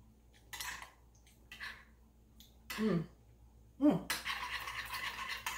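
A utensil whisks and scrapes homemade creamy Caesar dressing in a bowl, with a few short bursts of stirring and clinking and then a longer steady mixing run, close and fairly quiet.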